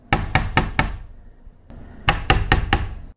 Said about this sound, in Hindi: कोई दरवाजा को जोर जोर से पीट रहा था।